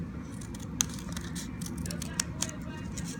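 A few sharp, quiet snips of scissors cutting paper, spaced irregularly over a low, steady background rumble.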